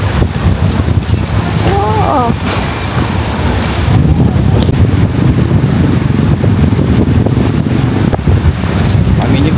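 Strong wind in Krabi, Thailand buffets the microphone in a steady, loud roar throughout, with a brief exclamation from a voice early on.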